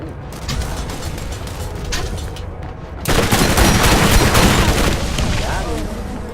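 Gunfire and a grenade blast in the video game Borderlands, a dense crackling barrage that swells into a louder, continuous roar of shots and explosion midway, with a voice talking underneath.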